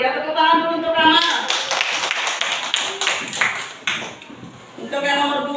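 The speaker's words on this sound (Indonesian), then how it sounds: "tepuk tangan dulu untuk Kamal." A classroom of students claps together, a brisk burst of hand claps rising after a voice and fading out, with a voice resuming at the end.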